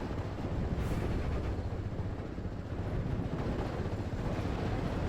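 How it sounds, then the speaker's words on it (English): An artillery barrage thunders in the WWII strategy game Steel Division 44, a continuous heavy rumble of overlapping distant explosions rolling steadily without pause. "This barrage could do a significant amount of damage."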